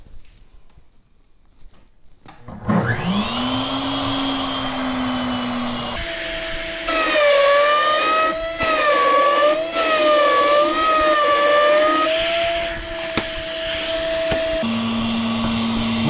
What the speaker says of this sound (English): I have to feed in to my router table backwards because I'm using the fence up this way.